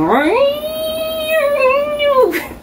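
A voice imitates shears with a sustained, buzzing hum that rises, holds for about two seconds, wavers slightly, then drops away.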